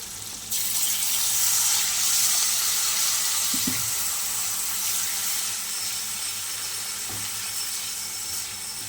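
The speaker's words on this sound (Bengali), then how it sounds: "চলো এবার অল্প জল দিয়ে দেবো।" A little water goes into a frying pan of bitter gourd with chili powder, the sizzle surging into a loud steady hiss with a couple of brief scrapes.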